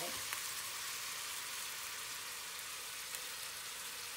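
Onion and ginger sizzle steadily in a hot pan while being stirred, a continuous close hiss with a couple of faint clicks and no talking.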